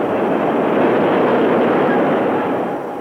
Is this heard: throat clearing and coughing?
no